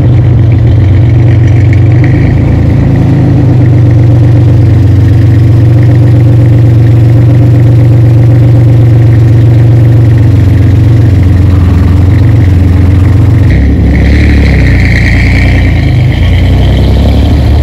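A 1993 Oldsmobile Cutlass Eurosport with a 3.1 multiport V6 runs at a loud, steady idle up close, its deep rumble holding even with a brief change near the end.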